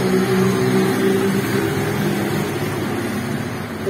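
A car passes nearby on a road, its broad engine and tire rumble holding steady and loud throughout before easing off slightly toward the end, with no voices.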